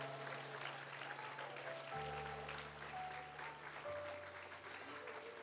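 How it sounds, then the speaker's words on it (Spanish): Church congregation clapping during a Spanish-language sermon, a steady dense round of applause heard fairly distantly over sustained organ or keyboard chords that change pitch. "Denle un aplauso fuerte"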